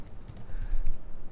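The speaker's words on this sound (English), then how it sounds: "continue typing." Keys clatter on a computer keyboard while someone types in the Emacs editor, a quick, irregular run of light clicks at close range with no talk.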